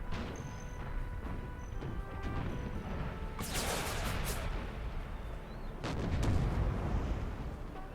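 Artillery fires canister shot in an American Civil War video game, with two sharp booming blasts and a crackling tail set against a steady battlefield rumble and no speech.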